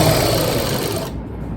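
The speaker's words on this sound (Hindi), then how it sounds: "इस तरह पूरी डोरी को अंदर करके मैं सिलाई लगा लूंगी।" Sewing machine stitching a drawstring into fabric, a loud, close, steady mechanical whir that cuts off abruptly near the end, leaving quiet.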